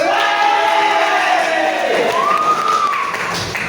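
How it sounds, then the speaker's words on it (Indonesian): A school crowd celebrating a basketball team's first-place win cheers and applauds loudly, a rising chorus of voices whooping with a sweeping shout over a dense mass of clapping and noise. "Alhamdulillah, tepuk tangan"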